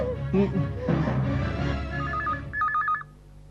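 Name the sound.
telephone dialing tones for a call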